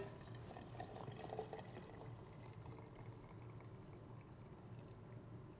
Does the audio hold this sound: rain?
no